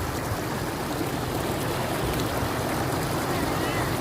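Flood water covering a road in Laos, heard as a continuous loud rush and churn of moving water up close, filling the whole scene without a break.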